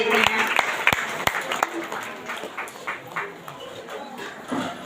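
A congregation at a Christian ministry gathering breaks into applause. A few sharp, distinct claps come first, then looser clapping that rises and falls, with voices heard through it.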